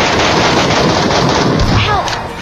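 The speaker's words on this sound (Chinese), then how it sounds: "听枪声可以知道，前面是把喷子加妹控" Shotgun fire in the mobile shooter PUBG Metro Royale, a dense stretch of loud, continuous gunfire and booming blasts that fills the whole moment before easing off slightly at the end.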